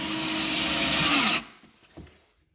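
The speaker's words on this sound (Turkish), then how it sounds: "Vidayı atıyoruz. Uzun vida kullanıyoruz. En uzun vidayı kullanıyoruz." A power drill drives a long screw into a wardrobe panel, a loud close whirring that rises in pitch and cuts off abruptly, followed by a few soft knocks and handling sounds.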